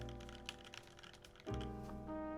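Typing on an E7-V1 mechanical keyboard fitted with Kailh Cream switches and GMK Hyperfuse keycaps: a close, steady patter of keystrokes, then a deeper, louder spacebar thock followed by continued clacking.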